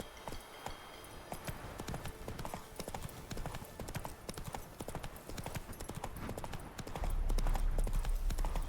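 Hooves of Roach, Geralt's horse in The Witcher 3, clip-clopping in a steady quick rhythm, close and clear, with a faint low rumble joining near the end.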